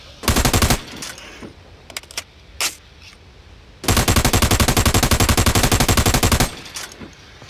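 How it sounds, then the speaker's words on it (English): Automatic gunfire at windows in the video game America's Army comes as loud, close bursts: a short opening burst, a few single shots, then a long sustained stream of rapid fire. "you can shoot these windows"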